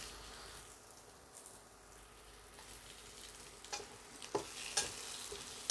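Capsicum stirred and fried in a pan, with a low steady sizzle and a few scraping spatula strokes that grow more frequent toward the end, close and fairly quiet, with no voices.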